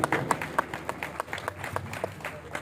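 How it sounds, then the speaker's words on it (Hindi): A crowd at a pigeon-flying gathering in Punjab claps for a guest. Irregular, moderately loud handclaps come in a loose rhythm, with faint background voices and crowd murmur underneath. "दिल खोल के तालियां बजाएं,"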